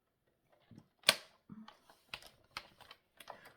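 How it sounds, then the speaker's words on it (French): Paper strip about 1 by 6 cm folded in half and creased by hand for a craft embellishment, giving a sharp crisp snap followed by several soft, close papery taps and presses, alone with no talk. "vous le pliez en deux, vous marquez votre pli"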